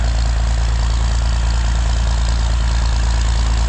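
A truck engine idles steadily and loudly with a deep, continuous low rumble as the truck pulls away from a farm consolidation auction, with no one speaking over it.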